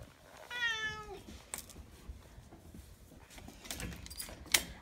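A cat lets out one loud, drawn-out meow near the start, followed by quiet room noise, a couple of brief knocks and a sharp click near the end.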